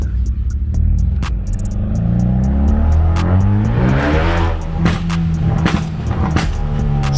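Modified Koup car engine heard from inside the cabin, rumbling and revving up and down with sharp crackling pops and bangs scattered through, loud and close with no talking.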